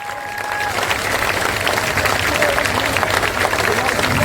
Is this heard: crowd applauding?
yes